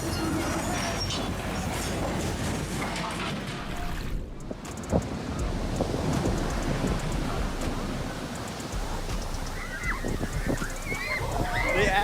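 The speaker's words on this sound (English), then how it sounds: "Several passengers were injured as the ship rocked violently, sending furniture flying and shattering glass as waves struck." Monster ocean waves strike a ship rocking violently at sea, making heavy sloshing, rushing water and gusty wind buffeting the microphone, with muffled voices underneath.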